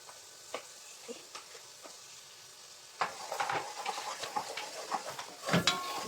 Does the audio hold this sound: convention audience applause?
no